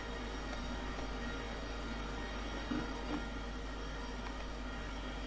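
A Class 700 Thameslink train in Train Simulator 2022 rolls along with a quiet, steady running hum and faint rail clatter, with no voices over it.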